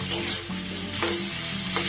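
Tomatoes fry in a pan while being stirred, releasing their water, a close, steady sizzle broken by a few scraping stirs, with no voices.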